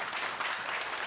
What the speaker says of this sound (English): a round of applause for my team